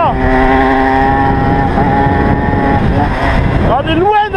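Chappy moped fitted with a Polini 62cc kit being ridden, close buzzing two-stroke engine with a strong steady drone and rising pitch near the end, loud throughout, with someone talking over it.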